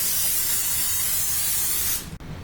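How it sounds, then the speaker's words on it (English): Cooking spray is sprayed onto a foil-lined meatball pan in one loud, continuous hiss of about two seconds that cuts off sharply, followed by a small clunk. "So the first thing you're gonna do with the pan to make the meatballs is spray the pan."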